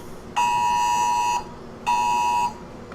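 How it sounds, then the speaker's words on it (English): Two loud electronic alert tones from a phone's Amber Alert emergency broadcast blare in sustained steady bursts, about a second each, separated by a short gap, over a quiet background. "My phone just had an Amber Alert."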